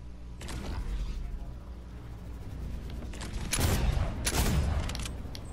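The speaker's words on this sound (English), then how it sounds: "That's a shotgun!" Shotgun blasts in a first-person shooter video game, two loud booming bursts in the second half, with a lighter gunfire crackle earlier and excited voices talking throughout.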